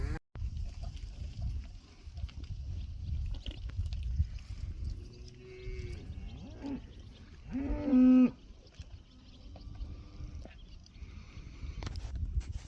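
Cattle on a farm where bulls are turned out with cows, among Galloway, shorthorn and Hereford cows and heifers, low mooing calls rising at intervals, one loud close bellow standing out over steady outdoor background noise.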